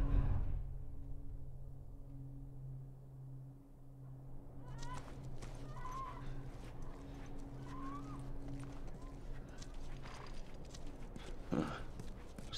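Horse hooves clip-clop at a steady walking pace in The Last of Us video game, against a constant low hum and background noise, with a brief louder clatter near the end.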